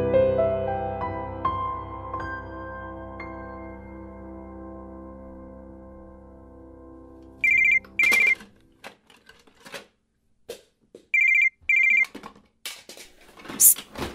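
An incoming call rings on a phone in repeated short electronic bursts, two pairs of trilling rings separated by quiet, following a fading tonal music bed, with faint handling clicks between.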